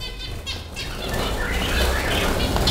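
Pet budgerigars flap their wings inside a cage, a close, steady, fluttering rustle that thickens into continuous wingbeats, with a few faint chirps mixed in.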